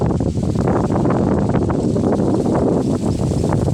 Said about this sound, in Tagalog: Mahangin guys, ang lakas ng hangin